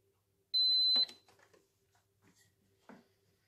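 A single high electronic beep sounds once as an electric pressure cooker is stopped, followed by faint clicks and quiet handling noises in an otherwise quiet room.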